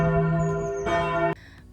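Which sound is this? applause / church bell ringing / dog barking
church bell ringing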